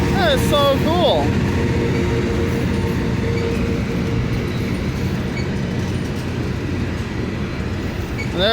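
A Loram rail grinder train rolls past with all its engines running, a loud steady rumble and drone, with a short rising whistle-like tone near the start.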